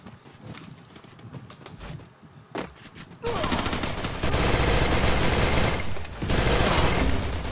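Video game gunfire from an online shooter: scattered single shots give way to sustained, loud rapid automatic bursts, with players talking over the shooting.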